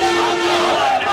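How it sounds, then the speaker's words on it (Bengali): Protesting Ansar members chant slogans in unison on an airport road, a loud, sustained crowd of voices that fills the whole moment. "আমি একটু স্লোগানটি শোনাতে চাই।"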